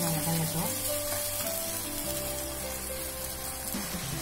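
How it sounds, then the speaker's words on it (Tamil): Masala for a pattani (green pea) gravy sizzles steadily in a pan, a close, continuous frying hiss with occasional soft stirring scrapes and no talk. "நல்லா வதங்கட்டும்."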